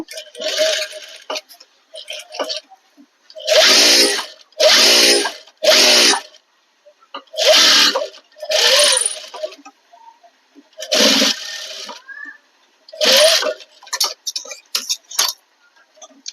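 A sewing machine stitches the collar neck of a garment in repeated short bursts of whirring, separated by brief pauses, close and fairly loud.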